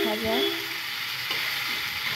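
Chicken frying in a pan for chicken kosha gives a steady, close sizzle that runs without a break for the whole moment, with a brief tonal murmur near the start.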